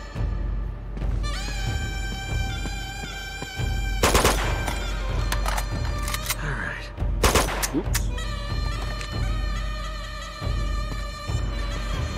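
Sniper and machine gun fire in the game Uncharted 2 comes as loud bursts of rapid shots between stretches of sustained tonal game sound, with sharp reports clustering near the middle.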